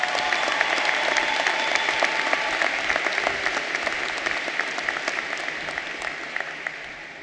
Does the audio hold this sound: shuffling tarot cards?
no